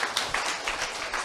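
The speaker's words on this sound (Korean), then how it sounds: "일단 여러분을 위해서 박수 한번 치세요" A short burst of group clapping, brisk and fairly loud, with individual hand claps pulsing through the wash of applause.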